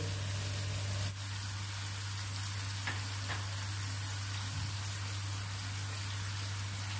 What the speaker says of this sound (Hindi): चिकन को इतना भूनेंगे कि ये अपना कलर चेंज कर दे।